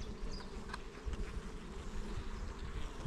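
Dense, steady hum of many honeybees crawling over a hive frame as it is lifted from the colony, a constant close buzz with no voices.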